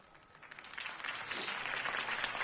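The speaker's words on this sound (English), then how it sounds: "could have heard that applause" In Telltale's Batman video game, crowd applause swells from faint to steady clapping over a couple of seconds, heard from a distance without voices.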